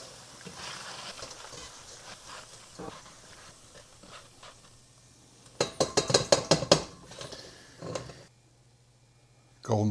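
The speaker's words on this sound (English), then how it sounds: "That tink sound means that they've got nice and crispy." Crispy fried potatoes clink and rattle in a pan: after a quieter stretch with faint clatter, a quick burst of bright, ringing taps and knocks comes up close, then fades to near silence before a final knock.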